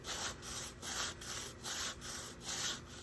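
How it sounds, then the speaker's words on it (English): A square sanding block rubbed back and forth along a wooden endplate's edges, giving a close, rhythmic rasping scrape of about seven even strokes with no talk. "you have a sanding block that you know is square. And then when you do this, you clean your edges up"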